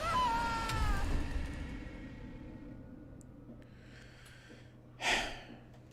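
A cat meows in the horror video game Song of Horror, a couple of rising, wavering cries near the start, then breathy snorts and a short sharp hiss-like burst later, with quiet moments between.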